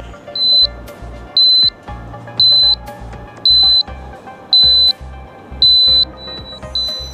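Fire alarm buzzer on a school science fair model, an ionization-style detector, beeps loud and near in a steady pattern of about seven short bursts, each with a shrill tone, over a low hum.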